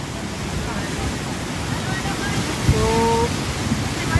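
Flood water rushes over a bridge in the Sainj valley in a loud, constant roaring wash, and a person speaks briefly over it.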